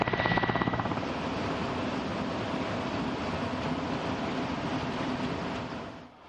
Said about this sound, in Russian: Вертолет летит на предельно низкой высоте, может быть, на высоте всего нескольких десятков метров.